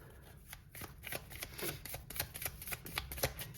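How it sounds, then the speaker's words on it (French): Everyday Witch Tarot cards being shuffled by hand, a close, steady run of papery riffles and soft flutters lasting several seconds with no one speaking. "je vais reprendre quelques cartes de l'Everyday Witch Tarot"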